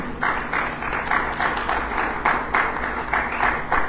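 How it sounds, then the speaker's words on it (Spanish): Church congregation applauding strongly during a sermon, a steady, dense wash of clapping that swells in repeated waves and holds for the whole stretch without pause. "¿Cuánto dan un aplauso fuerte a Cristo?"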